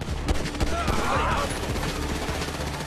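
Rapid automatic gunfire in GTA 5: a dense, continuous stream of crackling shots throughout, with speech mixed into the shooting.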